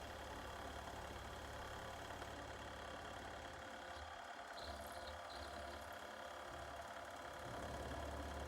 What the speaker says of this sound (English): change that out for 2 flute slotting end mill, and that seemed to work really well to get these ports machined in